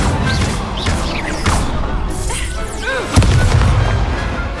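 Incendio fire spell in a Hogwarts Legacy duel, a dense run of booming blasts and crackling bursts, with a sharp heavy impact about two-thirds through.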